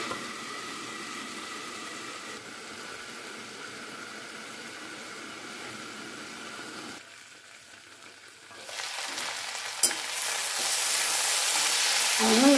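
Sliced potatoes fry for bhujiya in a pan, giving a steady close hiss of sizzling oil that dips quieter for a moment, then swells louder with scraping stirs.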